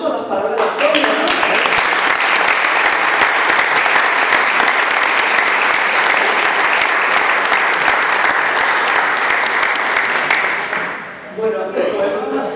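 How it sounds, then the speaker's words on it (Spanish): An audience applauds after a poetry reading at a book presentation, with loud, steady clapping filling nearly the whole stretch before it tapers off, and a voice comes in at the end. "un aplauso a las palabras de Antonio"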